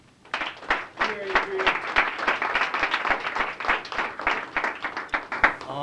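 A small audience at the Boston youth recognition celebration claps for a youth speaker, with distinct sharp individual claps in a loose, fairly quick rhythm, close and moderately loud, with a brief voice heard early.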